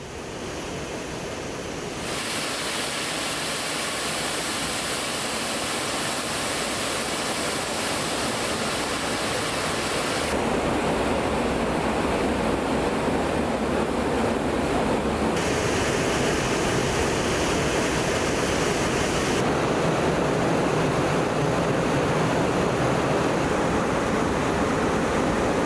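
Heavy rushing water from Kodaikanal waterfalls swollen after heavy rain, a loud, steady broadband roar that shifts slightly in character across the stretch, with no voices.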